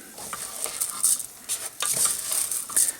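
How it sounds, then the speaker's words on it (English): Rice sizzling as it sautés in a pan for a Spanish rice and lentil dish, with several close scraping stir strokes of a utensil over the steady frying hiss. "Now you don't have to really fry this rice this way, but I saute it a little bit."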